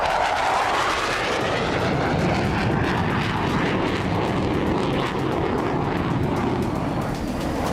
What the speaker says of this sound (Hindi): ये स्टेल्थ फाइटर जेट है जो दुश्मन के रडार से बच सकता है।